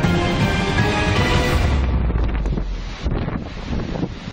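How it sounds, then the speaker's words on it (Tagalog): Large waves crash and roar against the shore at Gigmoto, Catanduanes during Super Typhoon Juan, with heavy wind buffeting the microphone in a loud, continuous rush and no voices. "Halos lamunin ng malaking alon ang mga bahay sa barangay Sikmil sa Gigmoto, Catanduanes."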